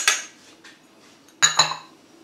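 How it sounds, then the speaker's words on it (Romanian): Cutlery clinks and scrapes against a bowl in a few short bursts while the ingredients for a salmon cure, including lemon zest and freshly ground pepper, are mixed, with quiet pauses in between. "Se amestecă totul foarte bine."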